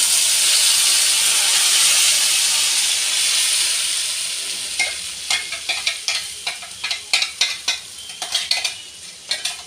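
Egg curry masala fries in a pan with a loud, steady sizzle and hiss. A utensil then stirs it, adding a run of clinking, scraping strokes over the quieter frying.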